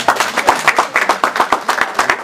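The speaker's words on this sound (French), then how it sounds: "On applaudit très fort." Wedding guests clap together in a quick, uneven rhythm, a lively burst of applause that is close and fairly loud, with some crowd noise underneath.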